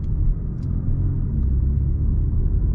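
BMW M340i G20 xDrive with a B58 engine cruising, giving a steady low rumbling drone heard from inside the cabin, fairly loud and continuous, with no talking.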